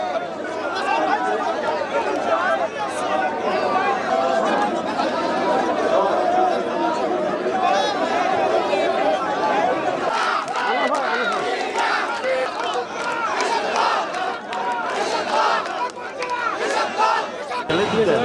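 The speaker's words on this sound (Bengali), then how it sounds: "দেশের রাজনীতির নেতৃত্বে একটি বিশাল মিছিল আমাদের মঞ্চের দিকে এগিয়েছে" A large political procession crowd surges toward the stage at a BNP rally in Rangpur, Bangladesh, a dense, continuous roar of chatter and shouting voices sustained throughout at steady loudness.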